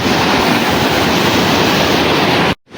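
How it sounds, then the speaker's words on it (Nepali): A river stream rushes loudly at the Gurje waterfall site near Kathmandu: a dense, constant roar of flowing water that fills the whole sound before cutting off abruptly near the end. "नो झर्ना ओन्ली खोला।"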